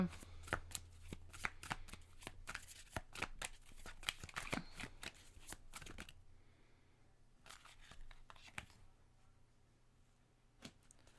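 Cards from an oracle guidance deck are shuffled and handled in a rapid run of crisp riffling flicks, then a few quieter, sparser snaps and slides as a card is drawn.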